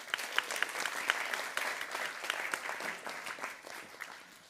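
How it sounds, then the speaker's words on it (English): Audience applauding for a presenter at a waste-challenge kick-off event, steady dense clapping from many hands that holds for several seconds and then begins to taper, moderately distant and without speech. "Can I get a big round of applause for Lisa Ploeg?"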